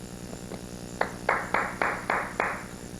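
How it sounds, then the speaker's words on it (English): At a talk, a listener in the audience gives six separate claps, sharp and evenly spaced, each ringing briefly in the room against a quiet, humming background. "are you clapping out there?"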